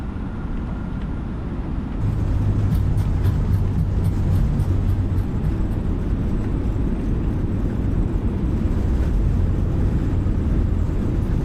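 Airbus A320neo (A32NX) thrust reversers roaring up just after touchdown in Microsoft Flight Simulator 2020, a sudden jump at about two seconds into a loud, steady broadband rumble with a low engine drone that holds to the end.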